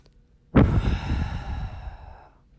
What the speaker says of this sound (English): And so how the breath works is you inhale sharply 3 times,